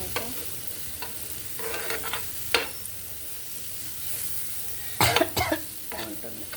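Food sizzles steadily in a frying pan while a spoon scrapes and stirs it in a few louder bursts, and a faint cough or throat-clear can be heard.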